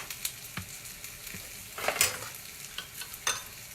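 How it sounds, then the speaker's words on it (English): Onions saute in a pan for a vegan Indian lunch, a quiet sizzle broken by a few scraping stirs of the spoon, with one louder clattering stir in the middle. "this is sauteing"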